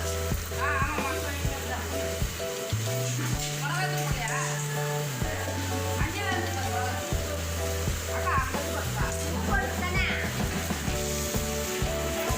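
Fenugreek and mustard seeds crackle and sizzle in hot oil for Tamil vatha kuzhambu, a steady frying hiss with scattered pops, under a low hum and background music.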